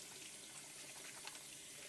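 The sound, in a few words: water splashing in a kitchen sink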